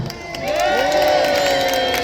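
A crowd cheers and shouts at a staged naval battle show in Peasholm Park, Scarborough, as a loud, sustained roar of many voices that swells after a brief quieter start.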